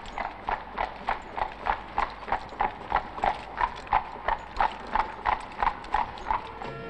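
Shire horse hooves clip-clopping at a walk in a steady, even rhythm of about two strikes per second, moderately close, with a faint background hum and no clear talk.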